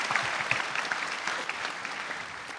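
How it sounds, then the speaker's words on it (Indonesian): An audience applauds a comedian at a stand-up comedy competition grand final, a dense, steady wash of clapping from a large crowd that continues throughout. "Tepuk tangan buat Mukmin."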